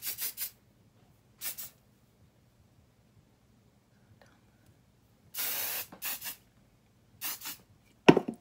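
Hair spray mists onto curled hair extensions in short bursts: two quick puffs, one longer spray, then a few more short hisses separated by quiet gaps, ending with a brief clatter.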